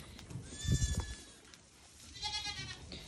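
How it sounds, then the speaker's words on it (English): Goats on a farm give two separate bleats, a nearer one early and a higher, wavering one later, with some low handling noise and rustling between them. "So right now we're gonna check the goats."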